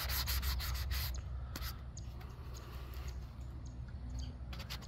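Sandpaper scrubs primer on an Estes Hi-Flier XL model rocket in rapid back-and-forth rasping strokes, close and steady, softening slightly after the first second.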